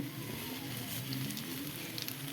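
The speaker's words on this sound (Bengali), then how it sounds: "এইখানে কড়াইয়ের মধ্যে কালো জিরা তেজপাতা দিয়ে সম্বাস দেওয়া হয়ে গেল।" Nigella seeds and bay leaves sizzle and crackle in hot oil in a wok, a short steady frying hiss with a few small pops.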